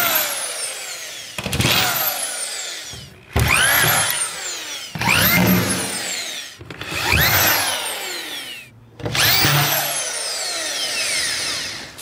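A power drill drives screws into drywall in a garage build, about five loud whirring bursts, each spinning up and winding down, separated by short pauses.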